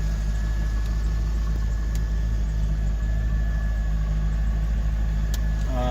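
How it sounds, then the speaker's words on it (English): A car engine idles, a steady, loud low rumble that holds an even drone throughout, with no talk over it. "But the engine runs perfect."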